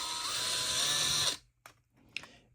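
A power drill bores into the corner of a diecast toy car with a loud, steady high whine for over a second, then stops abruptly, leaving a few faint clicks and scrapes.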